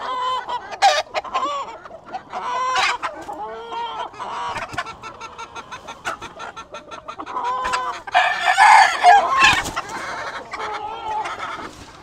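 A rooster, a breeding cock, crows loudly several times, mixed with steady clucking from nearby fowl, close to the microphone with no talking.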